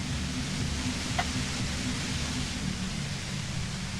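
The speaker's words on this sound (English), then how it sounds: "The violent white noise becomes even more overwhelming closer to the compressor." Violent white noise near a compressor in the game Disco Elysium: a steady, dense broadband hiss with a heavy low rumble, constant and loud throughout with no voices.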